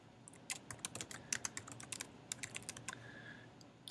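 Fingers tap on a computer keyboard, a quiet close series of crisp irregular clicks in short bursts over a faint room hiss.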